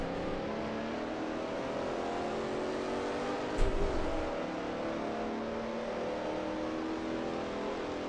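A classic Ford GT Falcon touring car engine drones steadily at Lakeside Raceway in a racing video game, a continuous loud roar with a brief sharper burst near the middle.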